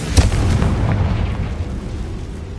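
The Confringo spell from a Harry Potter video game goes off as a loud, booming explosion with a sharp burst at the start, then rumbles and fades over a couple of seconds.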